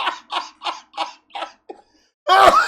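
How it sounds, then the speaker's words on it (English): A laugh mixed with a cough: five short rhythmic laughing bursts, a brief pause, then a single loud rough cough at the end, close and alone. "what you just heard right now was a mixture of a laughter and a cough."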